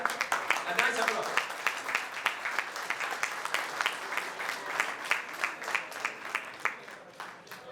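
Warm, sustained applause from a crowd at a state representative's reelection kickoff rolls on steadily, moderately close, with some voices mixed in near the start and the clapping slowly thinning toward the end.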